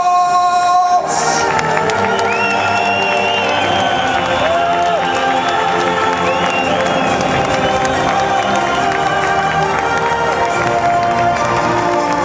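A packed MMA arena crowd in Hradec Králové roars with cheering, whistles and applause for the fighters, loud and sustained throughout, with music playing beneath the noise.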